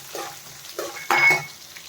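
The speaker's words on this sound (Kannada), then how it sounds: "ಹಸಿಮೆಣಸಿನ್ಕಾಯಿ ಎಣ್ಣೆಯಲ್ಲಿ ಫ್ರೈ ಆದರೆ ಚೆನ್ನಾಗಿರುತ್ತೆ ಟೇಸ್ಟು." Green chillies fry in hot oil in a pan for mango chitranna, giving a close sizzle with three short bursts of stirring scrapes, the last one louder and longer. No voices are heard.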